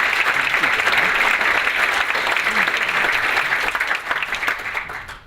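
A conference audience claps to welcome a keynote speaker at a college event, a sustained, dense round of applause from a full room that tapers off toward the end.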